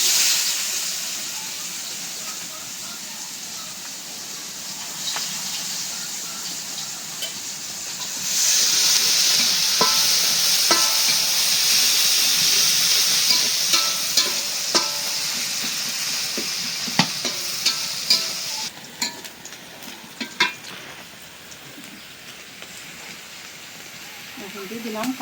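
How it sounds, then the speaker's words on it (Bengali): Sliced onions fry in oil left over from frying fish, with a soft background hiss that swells into a louder, steady sizzle partway through, punctuated by scraping and clinking of stirring in the pan. "এই মাছ ভাজা তেলে পেঁয়াজটা ভেজে নিই।"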